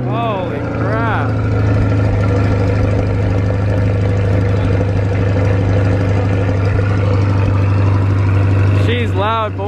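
A 2020 Chevrolet Corvette C8 sports car engine runs loud and steady for the whole stretch, a deep continuous drone with a brief rise near the end, while people talk over it.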